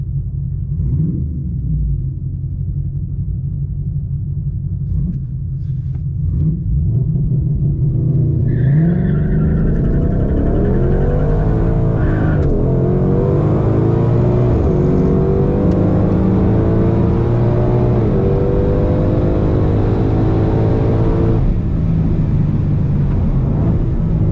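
A 2020 Shelby GT500 makes a quarter-mile drag strip pass at Sonoma Raceway, its deep engine rumble building as it accelerates. Rising gear-by-gear pitch sweeps and brief tire chatter carry loud and close throughout, with no talking.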